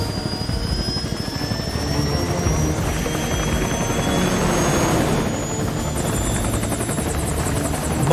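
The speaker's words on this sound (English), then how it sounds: "What's a Russian gunship doing here?" A Russian enemy gunship helicopter in the video game Metal Gear Solid: Peace Walker makes a loud, continuous rotor and engine drone with a whining jet tone that rises and falls, heard alone without speech.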